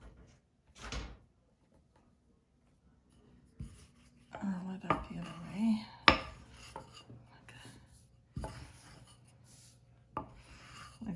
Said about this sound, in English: So we're just gonna roll that out